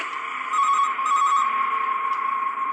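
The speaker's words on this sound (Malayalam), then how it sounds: "ഫോൺ ശബ്ദിച്ചു." A landline telephone rings continuously with a steady electronic tone and a slight pulsing warble, fairly loud and close, with no voices.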